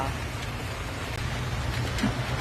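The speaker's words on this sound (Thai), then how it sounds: "ฝนกรุงเทพเนาะค่ะ" Steady rain falling in Bangkok, a continuous broad hiss with low rumbling underneath, constant and fairly close, with no one talking.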